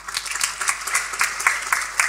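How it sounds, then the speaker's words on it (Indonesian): Audience applause at a church seminar, a fairly sparse crowd clapping with distinct claps spread through a steady patter, close and moderately loud, no voices over it. "Tepuk tangan saudara"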